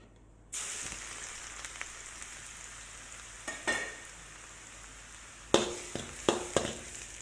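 Finely minced garlic sizzles steadily in smoking-hot oil in a wok while making Hokkien mee, a bright continuous crackle with a few sharper pops and stirring clatters.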